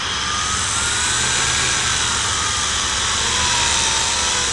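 On a bench test, a quadrotor's rear motor spins up with a loud, constant high-pitched whine and a low hum beneath it, running steadily without a pause.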